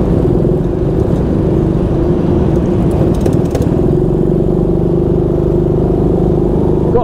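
A go-kart engine with a fault drones loudly and steadily at high revs throughout, a continuous close-up mechanical buzz with no pauses.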